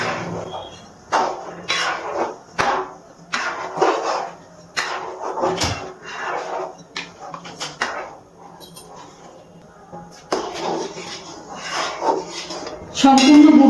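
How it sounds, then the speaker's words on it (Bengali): A spoon scrapes and clanks against a pot as jaggery melts into milk over a high gas flame, with irregular bursts of stirring and metallic knocks separated by quieter pauses. "এবার গ্যাসের ফ্লেমটা হাইতে রেখে আমি নাড়াচাড়া করছি, আর নাড়াচাড়া করতে করতে গুড়টা গলিয়ে নেব।"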